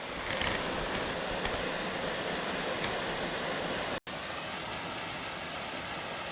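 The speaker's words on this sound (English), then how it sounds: "A little waterfall here in the shade." Pipe Creek Waterfall, a small shaded falls at the bottom of the Grand Canyon, rushes in a steady, dense roar of falling water, close and constant throughout with a brief cut partway.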